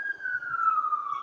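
Emergency siren passing by outdoors, a single faint, steady wail sliding gradually lower in pitch over about a second, heard at a distance through a quiet room.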